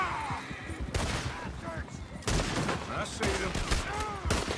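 Red Dead Redemption 2 gunfights crack out in dense, overlapping shots and volleys, loud and continuous, while voices shout over the shooting.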